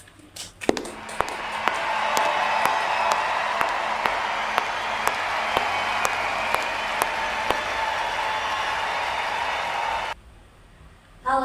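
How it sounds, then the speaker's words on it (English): A seminar audience claps steadily to welcome a speaker to the stage, a dense sustained wash of applause with a few sharper nearby claps, stopping abruptly near the end before a voice begins. "Please give her a big round of applause"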